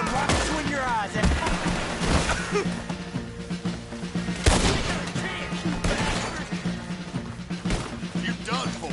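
Gunfire in Red Dead Redemption 2 during a hillside fight near a fort cannon: dense, loud volleys of overlapping shots with a heavy boom around the middle, mixed with shouting voices and game music throughout.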